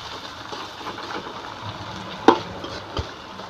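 Spices frying and being stirred in a pan for a dried fish curry with yardlong beans, a steady close sizzle under brief scraping, with a sharp utensil clank partway through.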